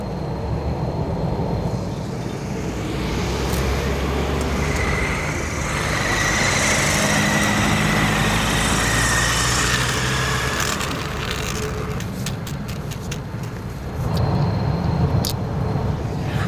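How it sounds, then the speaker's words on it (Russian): Cars drive past along a busy road in the Nenets region, a steady hum of engines and tyres with swelling pass-bys and faint honks, heard from the roadside with no talking. "только слышишь, как гудят машины"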